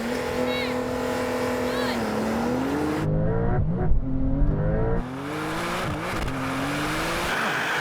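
A Brabus G-Wagon and a Mercedes-AMG Turbo S accelerate hard side by side in a drag race, with loud sustained engine roar and rising gear-change pitch sweeps, a brief tire squeal, and a voice talking over the engines.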